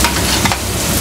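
Baltic fish fries in a very hot pan, giving a loud, steady sizzle with faint crackling throughout and no talk.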